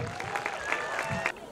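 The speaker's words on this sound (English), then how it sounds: "Let's welcome the class 5 and 6 boys with a huge round of applause." Applause and some cheering from a crowd at a school Founder's Day celebration greeting young taekwondo performers, a short dense burst with a faint tonal whistle above it, ending abruptly.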